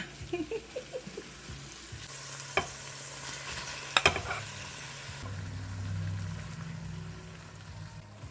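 Tomatoes softening in a hot pan give a low, steady sizzle, broken by a few scattered spatula scrapes and clinks early on, then settling into quieter frying.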